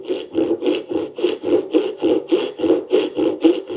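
A hand saw cuts wood for a dovetail joint on a recipe box, each rasping stroke evenly paced, about three strokes a second, close and clear with no voices.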